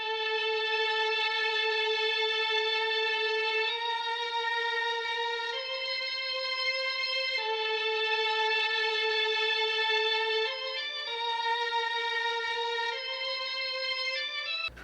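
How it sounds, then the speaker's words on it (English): Vintage Mellotron three-violins string preset in Logic playing sustained, held chords that shift every few seconds, with a steady, loud, continuous tone and no gaps or voices. "I added this 3 violins preset from vintage Mellotron"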